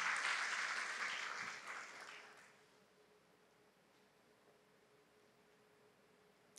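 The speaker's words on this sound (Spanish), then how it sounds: "Recibamos con un fuerte aplauso a la licenciada Juanita Rosa." An academic audience at a university nursing conference applauds to welcome a speaker; moderate clapping for about two seconds fades out, leaving a quiet room hum.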